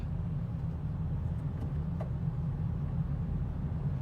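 Toyota Corolla LE easing off from a standstill as the gas pedal is pressed, heard from inside the cabin as a steady, low engine hum and road rumble that holds even and continuous, with no one speaking.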